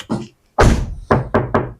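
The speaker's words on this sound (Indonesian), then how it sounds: "pada saat tutup pintu itu bantingannya berasa banget seperti suara kaleng ya" The door of a Daihatsu Terios Rush, before any sound damping is fitted, is shut several times in quick succession: close, loud, hollow thuds, one heavier slam followed by three sharper knocks, with no talking.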